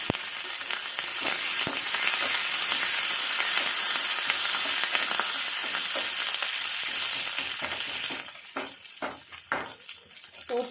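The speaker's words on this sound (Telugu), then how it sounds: "ఇలా ఆవాలు జీలకర్ర కొద్దిగా వేగిన తర్వాత ఒక ఎండుమిర్చి తుంచి వేసుకోవాలి." Mustard seeds, cumin, broken dried red chilli, garlic and curry leaves sizzle and crackle steadily in hot oil for a Telugu fenugreek-leaf pachadi tempering, a dense close frying hiss that eases near the end into scattered pops and stirring clinks.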